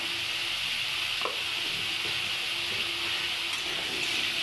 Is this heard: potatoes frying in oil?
yes